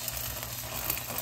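Flour- and egg-coated eggplant slices hitting a hot pan, a short burst of steady close sizzling and crackle heard alone.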